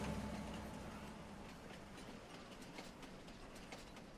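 Train in a farming video game rolling along its track, a steady rumbling clatter with faint rhythmic clicks, moderately quiet and continuous, no voices.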